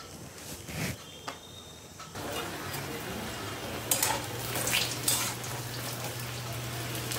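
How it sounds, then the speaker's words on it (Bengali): Eggplant pieces frying in hot mustard oil in a wok, giving a steady sizzle with scattered crackles and a few louder spatters, close and alone. "তেল গরম হয়ে গেছে সর্ষের তেল দিয়েছি আমি কড়াইতে এবার এই বেগুনগুলো নুন হলুদ ছাড়াই আমি ভেজে নেবো"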